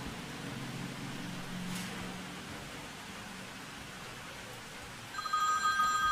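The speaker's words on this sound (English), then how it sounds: "Phone is ringing." A phone starts ringing near the end with a bright repeating electronic tone, following a stretch of quiet background hiss, with no talking.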